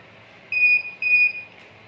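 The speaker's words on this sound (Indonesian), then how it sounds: "Ketika kartu yang dideteksi salah, maka buzzer akan berbunyi." An electronic buzzer on an RFID home security system gives two short, bright beeps in quick succession over a faint background hum, sounding when a wrong card is detected.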